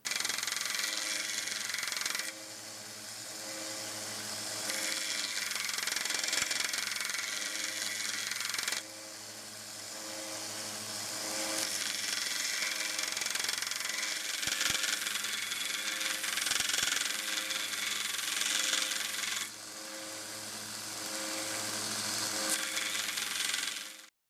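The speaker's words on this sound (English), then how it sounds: "I started sanding the head with a 120 grit belt." A belt sander with a 120 grit belt grinds the steel head of old linemen's pliers, a continuous motor whine with rough, shifting abrasion, briefly easing and resuming as the work is lifted and pressed back.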